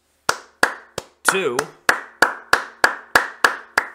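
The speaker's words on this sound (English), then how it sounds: "I want to give a big round of applause" Sharp, evenly spaced hand claps, about ten over four seconds, each crisp and close, with a brief spoken word partway through.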